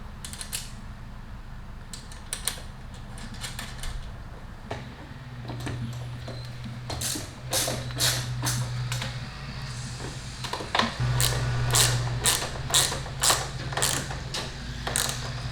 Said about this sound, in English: install this back up onto the bike using the supplied screws